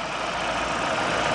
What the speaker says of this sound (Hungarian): a motor szépen és normálisan jár benne